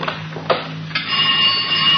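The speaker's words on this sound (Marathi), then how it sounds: "अहो जरा फोन उचला ना प्लीज" A telephone rings in a home, short bright bursts of ringing repeating at a fairly close distance, with no one speaking.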